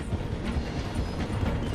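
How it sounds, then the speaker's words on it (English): A train in the Red Dead Redemption 2 game rumbles and clatters steadily as it slows through a station, a dense continuous rolling noise with no talk. "The train is slowing down to go through the station."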